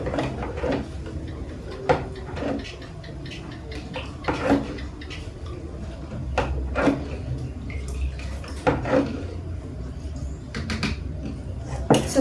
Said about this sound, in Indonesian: Lalu kita akan mengaduknya dengan sendok yang berbeda.